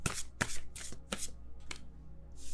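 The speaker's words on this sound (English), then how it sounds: "Let me see if I could shuffle these." Tarot cards are shuffled by hand in several quick riffling bursts, crisp and close, with short pauses between them and no talking.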